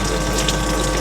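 A shower runs with a water pump motor humming in a Scamp Lite camper trailer, a steady close whir under gushing spray, alone without talk.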